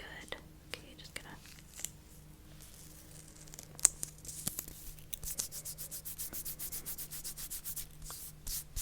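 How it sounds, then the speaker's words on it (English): A wax strip rubbed onto an eyebrow during a beauty session: soft scratchy friction strokes close to the microphone, starting sparse and becoming a rapid, regular back-and-forth rubbing, with faint whispery sounds. "I'm going to add another wax strip on the bottom this time instead of the top"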